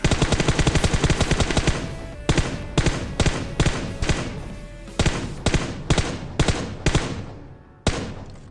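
Loud, close gunfire in PUBG Mobile during a solo-versus-squad fight at a military bridge: a rapid automatic burst, then evenly spaced single shots roughly every half second, each ringing out briefly.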